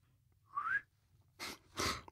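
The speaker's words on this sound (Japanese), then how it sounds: "思い浮かべた音をまず口笛で出せるっていうのがすごいですよ" Someone whistles a short rising note, pauses, then adds two breathy whistled bursts, quiet and close, like a melody fragment.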